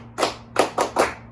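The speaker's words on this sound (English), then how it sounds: "So let's practice the clap together." A class claps together in unison during a school lesson, four sharp group claps in a quick pattern, two spaced then two close, against a quiet room with a low hum.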